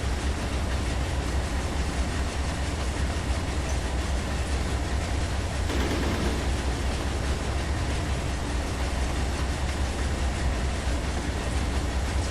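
A heavy CSX freight train loaded with 9,000 tons of rock rolls on dynamic brakes in Run 8 Train Simulator, a loud, dense, unbroken rumble and roar with a faint rhythmic clatter of wheels throughout.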